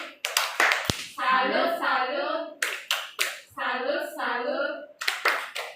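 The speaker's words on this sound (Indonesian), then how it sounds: "Tepuk salut dulu untuk kamu semua." Schoolchildren in a classroom clap out a rhythmic applause chant, with crisp bursts of hand claps alternating with their voices chanting in unison, close and clear.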